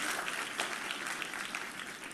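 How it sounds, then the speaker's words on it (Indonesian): A church congregation at a sermon applauds in a dense, continuous patter of clapping that stays steady and fairly close for about two seconds. "Tepuk tanganmu yang paling meriah buat Yesus Tuhan kita."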